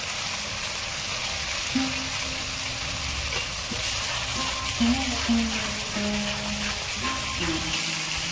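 Garlic paste frying with onion paste in oil, with whole garam masala and cumin in the pan, producing a continuous close sizzle and bubbling, with some faint background tones and no clear speech.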